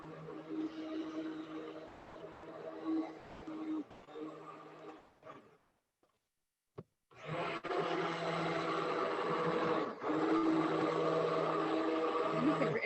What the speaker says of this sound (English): With the immersion blender, it goes down to the bottom of the pot and it just starts blending up stuff for you